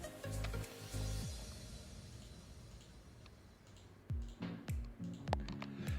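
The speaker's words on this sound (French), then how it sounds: "Je maintiens la touche CTRL de mon clavier et puis je sélectionne." Computer keyboard and mouse clicks in short bursts, a few taps near the start and a quicker run of clicks toward the end, quiet and close with no talking.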